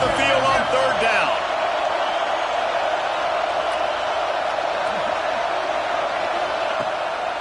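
Home crowd roaring at a college football game between Arizona State and Tennessee, a loud, steady stadium-wide wash of cheering throughout, swelling briefly at the start.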